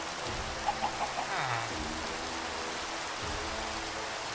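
Steady rain falls in a game world, a dense even hiss with a few faint droplet ticks near the start and low rumbling underneath, continuous throughout without voices.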